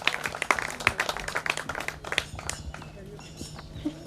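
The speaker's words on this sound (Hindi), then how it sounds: "जोरदार तालियां" Scattered, uneven clapping at the closing ceremony of a dragon boat team selection event, with sharp individual claps at first that thin out, mixed with voices and background crowd noise.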